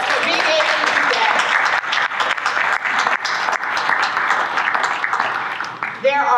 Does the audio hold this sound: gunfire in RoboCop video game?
no